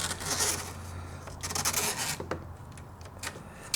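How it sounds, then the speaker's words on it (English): Mesh being cut for a Halloween costume build, a dry rasping, rubbing texture that keeps going in uneven bursts and pauses, close up, with a faint steady low hum beneath and no talking. "just do something very satisfying and cut out this mesh."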